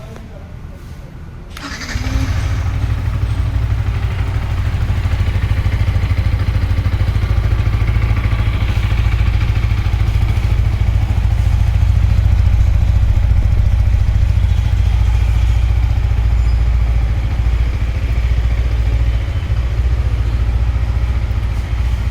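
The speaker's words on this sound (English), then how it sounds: "now we are gonna see the the exhaust note of this bike. So let's fire up the engine." A Yamaha YZF-R15M motorcycle engine fires up after a short crank, then settles into a steady, loud, close idle with a throaty exhaust note that runs on evenly for about twenty seconds.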